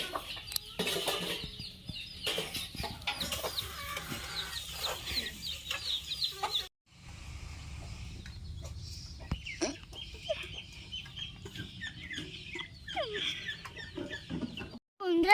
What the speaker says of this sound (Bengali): তোমার মার পাশে অনেকগুলো মুরগি ঘুরে বেড়াচ্ছে